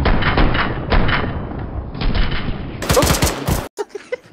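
Gunfire in the military shooter Arma 3: a dense, loud burst of rapid shots and thumps, a pause, then more sharp bursts, ending in a few scattered impacts after a brief silence.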